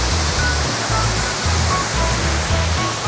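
Mantayupan Falls in Barili, Cebu, sends out a loud, constant roar of rushing water. The dense steady wash fills the whole stretch and no voices are heard.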